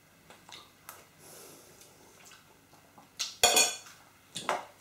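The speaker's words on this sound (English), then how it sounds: "Now give that a stir." Salt, white pepper and other seasoning are stirred in a bowl: a spoon scrapes and clinks against the dish in short, close, irregular bursts, with sharper rattles near the end.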